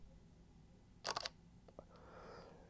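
A Fujifilm X-T2 or X-H1 mirrorless camera shutter fires once, a quick, crisp double click in a quiet room followed by faint soft handling noises.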